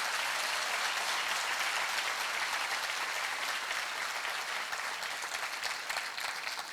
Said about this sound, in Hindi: जरा वो ऑपरेशन गंगा के लिए तो तालियां उतनी जोर से बजनी चाहिए।